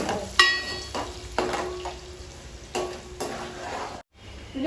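Mutton pieces and onions fry in a pan for a mutton pickle, a soft steady sizzle punctuated by several scraping stirs and clinks of a spoon against the pot.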